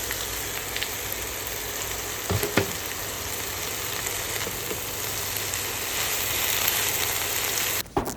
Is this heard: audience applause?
no